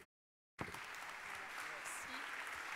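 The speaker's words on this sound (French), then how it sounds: "on peut applaudir Corinne" After a moment of silence, an audience at the Enedis Smart City trophy ceremony in Paris breaks into sustained, even applause for a prize presenter, the clapping continuing steadily to the end.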